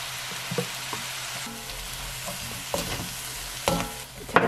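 Eggplant and beef stir-frying in a pan with soy sauce and corn syrup, a steady low sizzle broken by several clattering stirs and scrapes, close and moderately loud, with no talking.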